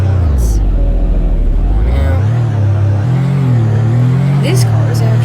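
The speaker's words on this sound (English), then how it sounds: "Nice sounding startup there." A Roblox video game car engine idles after startup with a low, steady rumble, rising briefly as it revs and then settling, heard up close over continuous engine drone.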